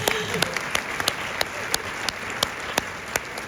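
Scattered audience applause at a film Q&A with sharp, individual claps ringing out over a steady roomy hiss, fairly faint and distant, with voices murmuring beneath.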